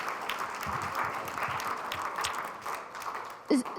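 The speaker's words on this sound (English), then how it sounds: "Can we get a round of applause for that?" Scattered applause from a small audience at a town hall meeting, steady and moderate, fading slightly near the end with a brief louder bump.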